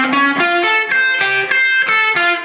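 A distorted electric guitar plays a quick run of sustained notes from a guitar solo, breaking off with a brief pause midway before the second group of notes continues.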